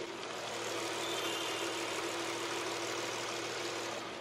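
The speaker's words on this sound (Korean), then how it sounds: "지금 영상으로 들리시는 것 같이 굉장히 정숙하고 규칙적인 엔진 사운드 들려주고 있고요." A 2019 Hyundai Grandeur IG 3.0 LPG sedan idles steadily outdoors beside the engine bay, a smooth, even, continuous hum with no talk over it.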